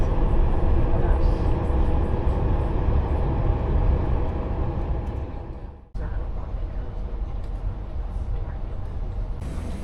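A passenger train runs between Sydney and Gerringong at speed through Helensburgh, its interior filled with a steady low rumble and rattling wheel noise that briefly dips before resuming.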